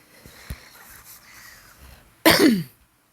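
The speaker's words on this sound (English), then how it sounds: "I really apologize if I clear my throat a lot" A single, loud, harsh throat clearing from allergies follows a few seconds of quiet background sound.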